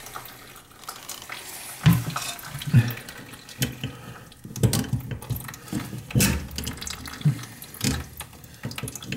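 Water leaking from a toilet whose washer fell off, running and splashing into a container with its top cut off, a close steady trickle broken by irregular louder gurgling splashes.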